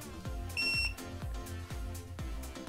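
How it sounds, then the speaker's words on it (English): A tire pressure monitoring system sounds a short, clear electronic beep as its set button is held, over a rhythmic low background of repeated thumps. "we're going to press the set button until it beeps"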